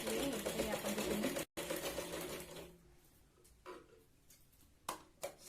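A sewing machine running a straight stitch on a katori blouse, a fast continuous mechanical rattle for a couple of seconds, then a pause and a few short bursts, with a voice talking over it.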